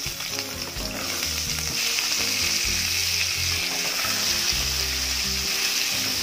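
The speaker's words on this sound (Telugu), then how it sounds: "ఇందులో ముందు ములక్కాయల్ని వేపేసుకుందాం" Drumsticks fry in hot oil with turmeric and salt in a kadai, giving a steady, close, loud sizzle that runs unbroken throughout, with no voices over it.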